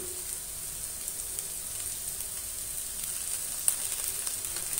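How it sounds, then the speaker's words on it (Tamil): Vegetables and chicken fried rice masala sauté in a pan with a steady, even frying sizzle, close and moderately loud, with one brief click near the end. "இப்படியே வதங்கிட்டு இருக்கட்டும்"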